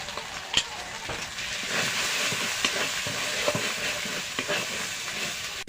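Chili, cumin and coriander powder fry in hot oil for chicken biryani, a steady close sizzle with scattered scraping stirs and small pops throughout, no talk over it.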